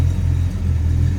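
A 1967 Plymouth GTX two-door hardtop idles smoothly, its engine giving a steady, close, low rumbling drone with an even pulse throughout.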